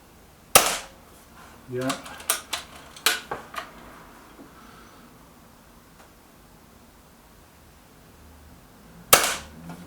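A Hatsan AT44-10 air rifle fires at targets: one sharp crack, a quick cluster of several shots, then a final crack after a quiet gap. A voice briefly speaks between shots.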